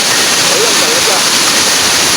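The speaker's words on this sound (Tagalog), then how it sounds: "Ah, parang ulan na nga." A steady, loud rush of falling water fills the scene like a heavy downpour, with a brief voice faintly under it.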